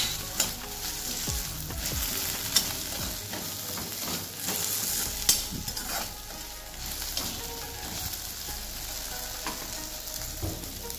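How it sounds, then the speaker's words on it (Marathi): Okra (bhindi) fries in oil in a pan as it is stirred, a steady close sizzle with intermittent scraping and clattering strokes of the spoon, and no voices. "त्यानंतर भेंडी टाकून घेऊ, मिक्स करून घ्यायचं"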